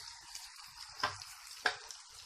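Spices and green paste fry in a pan for Hyderabadi chicken biryani, a faint, soft sizzle broken by two sharp clinks of stirring.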